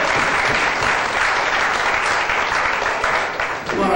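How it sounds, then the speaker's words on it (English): A church congregation claps hands in praise during a Sunday morning service: dense, continuous applause from many people, loud and sustained, easing slightly near the end. "Give God a hand clap of praise."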